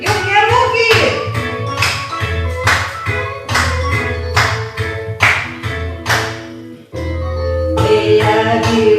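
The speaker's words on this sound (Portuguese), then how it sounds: "Todos a bater palmas!" A church congregation at an evangelical service claps in steady rhythm along with a sung hymn, the hand claps sharp and regular over the singing voices and accompaniment.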